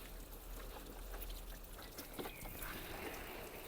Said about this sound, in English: I'm still gonna water in the plants that I've just planted, just to settle in the roots